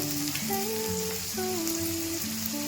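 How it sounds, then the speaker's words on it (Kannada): Chopped tomato and ginger-garlic paste frying in a pan for brinjal curry, a continuous crackling sizzle heard close and steady under background music. "ಸ್ವಲ್ಪ ಅರಿಶಿನ ಪುಡಿ ಹಾಕೊಂಡು ಚೆನ್ನಾಗಿ ಫ್ರೈ ಮಾಡಬೇಕು"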